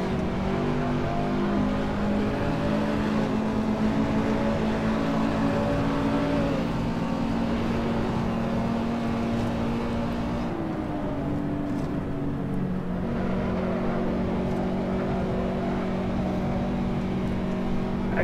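A Toyota GT86 in the Assetto Corsa racing game laps Zandvoort, its engine droning steadily throughout with pitch rising and dipping as it accelerates and eases through corners, loud and continuous with no talking.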